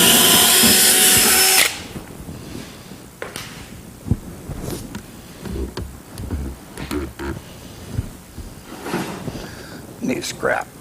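A small-bit power drill bores up into wood from underneath a base kitchen cabinet, a loud whine at the start followed by shorter bursts and workshop clatter, with a voice talking throughout.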